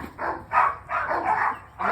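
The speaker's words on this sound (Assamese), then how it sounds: "এইটো পৃথিৱীৰ 2 নম্বৰ চবতছে হিংসুক কুকুৰৰ জাত হয়" A dog of an aggressive breed barking close by, a series of about five loud, evenly spaced barks.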